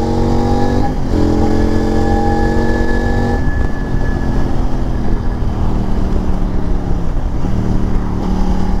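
A 2023 CFMOTO 800MT touring motorcycle's engine pulls hard under acceleration, a loud close drone rising in pitch through the gears with brief dips at each shift, and no talking.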